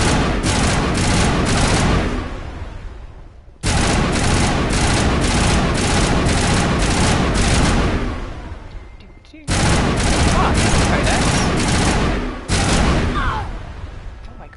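Grenade explosions and dense gunfire in the Mass Effect video game, loud and continuous in long bursts broken by brief gaps, with a voice faintly talking underneath.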